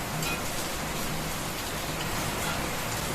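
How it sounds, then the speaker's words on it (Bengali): Heavy rain and storm outside, a dense, unbroken hiss of rainfall filling the clip at steady loudness with no pauses. "বাইরে এত পরিমাণে বৃষ্টি হচ্ছে আর ঝড় হচ্ছে,"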